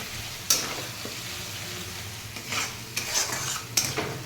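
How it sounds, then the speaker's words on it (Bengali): Spoon stirring grated garlic and ginger paste in a hot pan while preparing a jackfruit and prawn curry, with a steady sizzle under a few scraping strokes, close and clear, with no speech. "এবারে এগুলোকে একটু ভালো করে মিক্স করে নেব"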